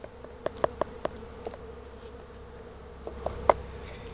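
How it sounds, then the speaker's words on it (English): Gnats whine and buzz around a beehive outdoors, a faint steady insect hum with a few short, sharper buzzes as insects pass close to the microphone. "The gnats are really bad today."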